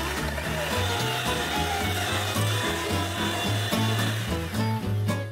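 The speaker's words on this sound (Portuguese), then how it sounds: "Agora é só começar a bater com a batedeira, até ele chegar no ponto bem cremosinho" An electric hand mixer whips cream with sugar, giving a steady, close motor whir that runs for several seconds under background music.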